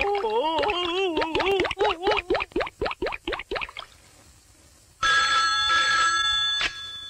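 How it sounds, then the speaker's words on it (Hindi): A bell telephone rings in a series of rapid, loud trilling bursts indoors, then falls silent before another bright electronic tone sounds. "साहब, आपका फोन।"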